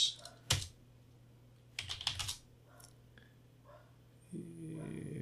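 Keystrokes on a computer keyboard while entering a note at a command prompt, arriving in a few short bursts of clicks over a low background hum.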